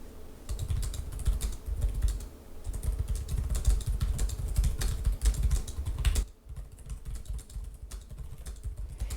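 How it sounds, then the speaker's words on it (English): Rapid, snappy keystrokes on an ASUS Zenbook 14 OLED laptop keyboard clatter steadily and close for several seconds, then stop abruptly, leaving quiet room tone. "So we'll have a look at the keyboard here. We'll do a little typing test."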